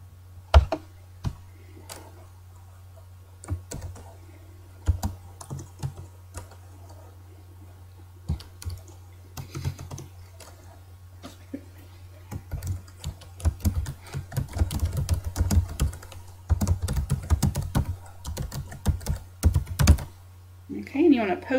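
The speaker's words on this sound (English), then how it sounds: "Go ahead and let's just type a practice answer in there." Keys on a computer keyboard are typed in irregular bursts of close, crisp clicks over a steady low electrical hum, getting busier and denser toward the end.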